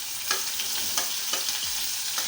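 Curry leaves, chopped onion and tomato sauté in a hot pan with asafoetida, giving a steady close sizzle with a few soft stirring scrapes spaced through the short stretch, no voices.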